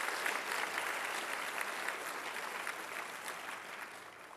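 Steady audience applause fills a hall at a rabbi's installation ceremony, dense and even clapping from many hands sustained throughout without a break.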